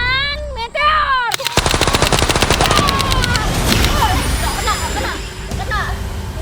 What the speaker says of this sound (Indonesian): Tembakan meteor.